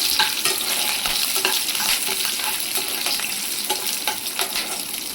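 Green chilies fry in hot oil for tamarind rice made with seasonal vakkaya berries, a close, continuous sizzle with stirring strokes and no talking.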